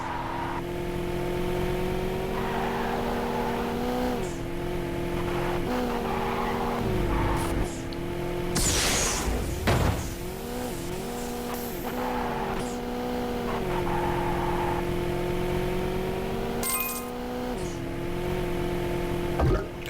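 Racing car engine in the video game Horizon Chase with a nitrous boost: a continuous revving whine that rises and shifts pitch with gear changes, plus a sharp burst midway, under game music.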